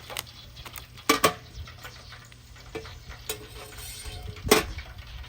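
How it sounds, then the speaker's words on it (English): Hot oil crackling softly in a deep fryer before a turkey goes in, a quiet background hiss broken by a few sharp clanks and taps of metal equipment nearby. "But I already hear it sizzling, so that's good."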